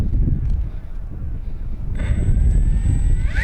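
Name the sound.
FMS Fox 3000mm RC glider motor at full throttle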